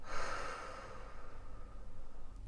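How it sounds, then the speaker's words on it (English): A slow inhale during a guided breathing exercise: one long, airy intake of breath lasting a couple of seconds, close and soft, with no talking over it. "Now in this breathing technique, we're going to breathe in for 4, like this."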